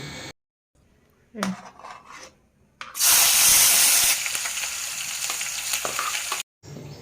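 Eggs frying in hot oil in a pan, a loud steady sizzle that bursts up suddenly and runs for several seconds, with a few quieter pan noises and stirring before it.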